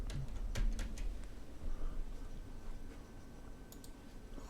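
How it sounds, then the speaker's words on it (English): Sparse, faint clicks and taps as a name is typed on a computer keyboard while setting up a custom Windows 11 build, heard alone with no talking, a few scattered keystrokes over quiet room noise. "So I'll type the name in."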